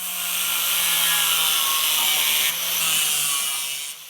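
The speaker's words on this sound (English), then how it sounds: "I can cut off the rest of the bolts." A power tool cuts through the protruding ends of old bolts set into a wooden antique table, a loud continuous grinding whine that dips briefly in the middle before trailing off, with no talking.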